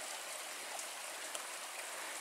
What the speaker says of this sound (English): the trail has been following just above this